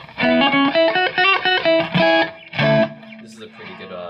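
An electric guitar plays a short run of picked notes through an Electro-Harmonix Oceans 3-Verb pedal on a subtle hall reverb setting. The notes are close and clear, and a light tail trails off after the last chord.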